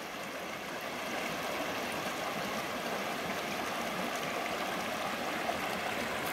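A creek flowing in a canyon, a steady soft rush of running water that stays even throughout, fairly faint and with no talking.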